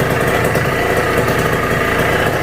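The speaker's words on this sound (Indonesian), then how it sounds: "ini udah jalan ya pompanya, motornya udah kita nyalain" A Kawasaki Ninja motorcycle engine runs at a steady idle during radiator servicing with a bilge pump, a loud, close, continuous rumble with no talk over it.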